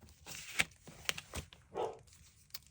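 A dog barks a few times in short bursts, moderately close, with a small indoor room's quiet background between the barks.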